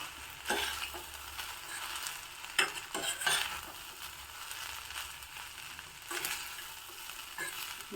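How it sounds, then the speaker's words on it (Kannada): Cooked rice being stirred into a prepared tempering in a pan gives soft scraping strokes and intermittent light sizzling, fairly quiet, with a few louder spoon scrapes. "ನಂತರ ಚೆನ್ನಾಗಿ ರೆಡಿ ಮಾಡ್ಕೊಂಡಿರೋ ಒಗ್ಗರಣೆ ಜೊತೆ ಮಿಕ್ಸ್ ಮಾಡಿದೆ"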